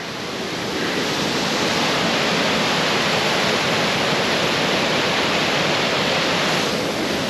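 A waterfall on Dartmoor roars as a loud, steady wash of rushing water that holds level from start to finish, close by and with no other sounds standing out.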